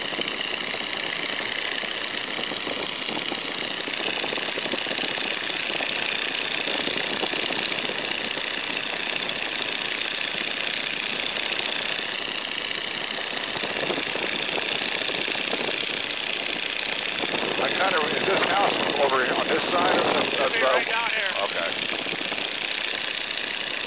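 A 1942 Boeing Stearman biplane's engine drones steadily throughout from inside the aircraft in flight, a loud, even roar with wind, and a voice talks over it at times.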